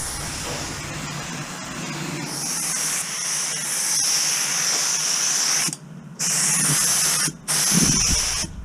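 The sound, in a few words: paint spray gun spraying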